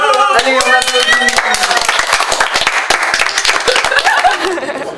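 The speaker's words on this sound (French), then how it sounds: "Allez, on applaudit." A festival theatre audience claps after the final performance, loud sharp individual claps close by over a broader crowd, with some laughter and a voice or two mixed in, tapering at the end.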